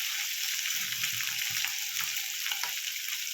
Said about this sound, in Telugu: ఇప్పుడు మటన్ వేసుకొని కలుపుకుందాం.